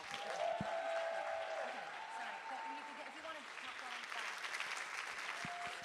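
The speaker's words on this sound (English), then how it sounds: "Give them a round of applause, our fantastic dancers today." An audience applauds dancers at the APIDA Arts Festival dance performances in Chicago, a full, sustained patter of many clapping hands mixed with a few voices and whoops throughout.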